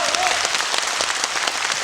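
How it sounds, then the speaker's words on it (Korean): Audience applause at a book launch event for a former Yangsan mayor, a dense steady wash of clapping from a crowd, sustained and fairly loud throughout. "박수 한번 보내드릴까요, 여러분?"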